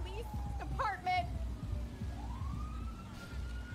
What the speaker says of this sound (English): The ambulance is coming, sir.